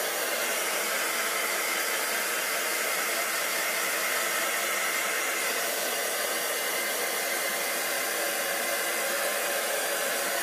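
Heat embossing tool drying a stamped card during a Stampin' Up! watercolor stencil project: a steady, continuous airy blower hiss with a faint motor whine, close and constant for the whole stretch, no talking.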